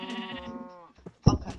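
Sheep bleating in the Minecraft video game, a wavering blocky bleat followed by a louder, sharper burst, with a faint voice also present.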